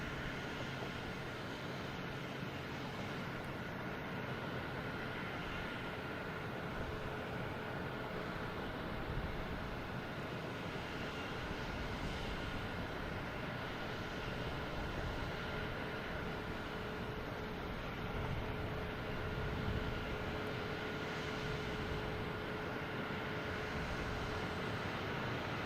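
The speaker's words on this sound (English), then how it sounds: "We have Turkish Airlines coming in from Istanbul." A Turkish Airlines Airbus A350-900 arriving from Istanbul lands at Boston Logan Airport, a steady broad jet roar holding at a distance for the whole stretch, with a faint tonal whine running through it.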